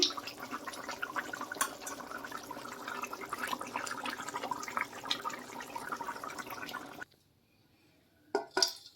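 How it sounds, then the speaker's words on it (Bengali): Rohu fish and potato curry poured out of a pan in a home kitchen, a steady liquid splashing and running for about seven seconds, then stopping, followed by a couple of brief knocks. "ঝোলটা আমি ঢেলে নিচ্ছি।"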